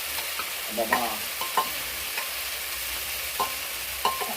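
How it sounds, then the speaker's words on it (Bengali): Green peas are stirred in hot ghee in a wok, giving a continuous close sizzle broken by several sharp scraping clinks of a spatula. A brief word is spoken once. "ঘিটা দিলাম, এবার কড়াইশুটিটা চালবো,"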